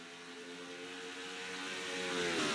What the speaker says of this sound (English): The gears are turning up and the revs are going, and we're green flag here at Texas.